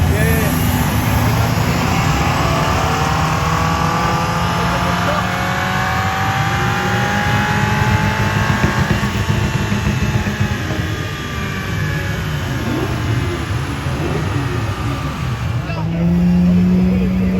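A 2021 Toyota Supra 2.0 four-cylinder revs hard on a dyno pull, the engine note climbing steadily and loudly for over fifteen seconds before dropping off, with voices talking faintly underneath.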